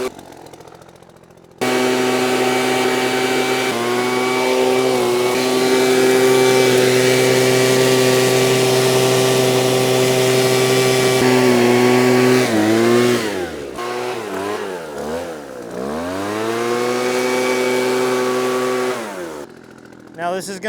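A gas-powered leaf blower blasts debris, starting abruptly into a loud sustained whine with steady harmonics, then its pitch dips and surges several times before it cuts off near the end.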